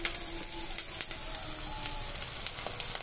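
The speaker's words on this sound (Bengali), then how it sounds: "এবার আমি 1 চামচ আদা রসুন বাটা দিয়ে দিলাম।" A spoonful of ginger-garlic paste sizzling in a frying pan along with cashews, raisins and potatoes: a close, continuous bright sizzle crackling with irregular pops throughout.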